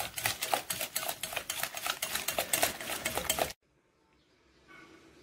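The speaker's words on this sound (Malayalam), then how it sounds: "ആ കോൺഫ്ലോറോ അല്ലെങ്കിൽ മൈദയോ നല്ലപോലെ മിക്സ് ആവുന്നതിനനുസരിച്ച് കട്ടയാവരുത്, നമുക്ക് മിക്സ് ചെയ്യാം." Cornflour or flour is being stirred into a caramel custard pudding mixture, a rapid rhythmic scraping and clinking of a whisk or spoon against a bowl that stops abruptly, leaving near silence.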